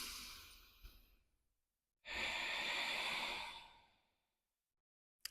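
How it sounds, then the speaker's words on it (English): A slow, deep breath taken into the belly while folding forward over the lap in a seated chair Pilates routine, one long soft airy exhale standing alone in a quiet room. "Take another breath into the belly here."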